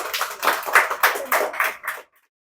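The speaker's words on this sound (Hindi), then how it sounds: "तालियां बजाइए इनके लिए" A small group claps for a baptism candidate, a close burst of uneven hand claps lasting about two seconds before stopping abruptly into silence.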